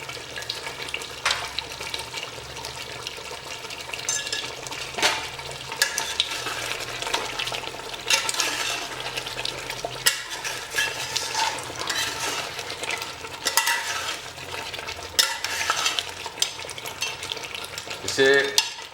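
Mutton frying in masala with Kashmiri chilli, stirred in a pot, giving a continuous soft sizzle broken by repeated scraping, clattering stirs at an irregular pace, close up with no voices.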